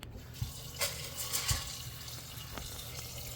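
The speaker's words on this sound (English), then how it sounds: "Put enough cold water in" Cold water runs from a tap into a pan of dried beans, a steady close splashing and gurgling with a few louder drips and knocks.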